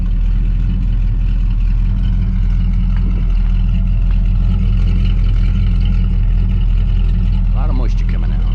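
An RV engine with a Q-Jet carburetor idles steadily after a cold start, a loud, constant low rumble that holds throughout, with a brief rise near the end.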